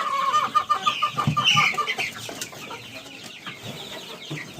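Hens clucking steadily inside a poultry shed after the older chickens were moved there, several birds overlapping in close, busy calls with occasional louder squawks and no talk.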